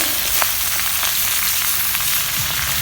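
Boiled leafy greens hit a hot pan with bean and onion flowers in it, giving a steady close sizzle with a few sharp spits and a light stirring scrape near the end.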